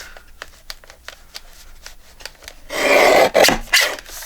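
Recycled envelope paper trimmed for a junk journal: a run of soft, evenly spaced rustling snips and taps, then a louder stretch of close, dry paper cutting and shuffling toward the end, with no talk.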